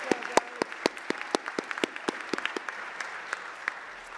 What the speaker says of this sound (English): Please give a round of applause to all of the winners.